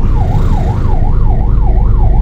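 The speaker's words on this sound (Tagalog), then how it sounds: "Yung nasa unahan ko pa naman parang ambulansya ata to." An ambulance siren wails in traffic with a steady up-and-down sweep, loud and continuous over a dense rumble of engines and road noise.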